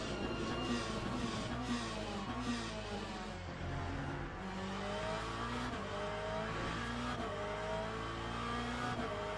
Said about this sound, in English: Well, the engine at high rev always sounds it's going to blow up.